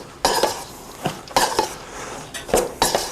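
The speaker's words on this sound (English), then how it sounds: "We can actually stir that." A ladle stirs a flour mixture in a pot, giving several scraping, clanking strokes in an uneven rhythm. The strokes are close and moderately loud, with no voices.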